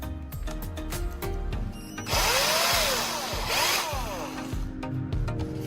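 An electric drill spins a graphite rod taken from an AA battery, with whirring bursts and rising and falling motor pitch. Grinding and handling knocks mix in up close.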